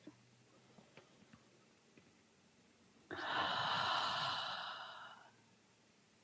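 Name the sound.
slow deep breath in during guided meditation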